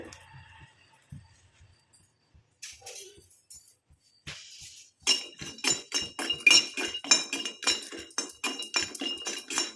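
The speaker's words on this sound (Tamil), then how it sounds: "இப்போ இந்த நெல்லிக்காவை நான் இது உள்ளே ஆட் பண்ணிக்கிறேன் இந்த மாதிரி இரும்பு கடாயில் ஆட் பண்ணிக்கிறேன்" Gooseberries tumble into an iron pan, a dense run of clinks and rattles after a few quieter scattered knocks.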